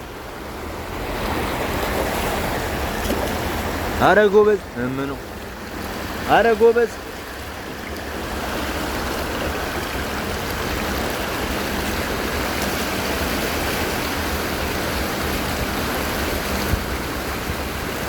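Seawater floods into shops and houses during a sea surge. It makes a steady, loud, close roar of rushing surf that fills the whole stretch, with a voice briefly calling out twice partway through.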